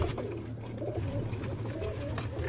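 Pigeons coo steadily inside a pigeon house where breeding pairs sit on eggs and chicks, a dense, continuous murmur of soft rolling calls close by.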